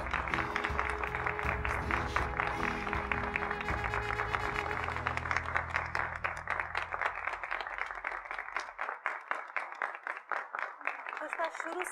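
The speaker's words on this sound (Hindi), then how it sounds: "तो आइए जोरदार तालियों के साथ" A studio audience at a televised talk show claps to welcome a guest, a steady wash of applause that thins into scattered individual claps near the end, with a voice talking over it.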